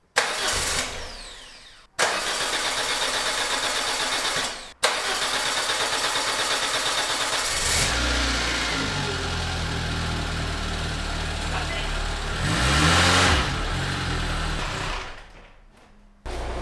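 A Citroen AX engine cranks over several times in short bursts, catches and settles into a steady running idle with a brief rev, the small car engine loud and close with no talking.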